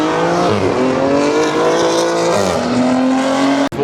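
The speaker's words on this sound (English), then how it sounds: "That boy sound like he's spinning all four wheels." A car spins all four wheels at a night car meet, with a loud, close, sustained engine roar and rising revs, wheelspin whine and tire squeal that carry on without a break.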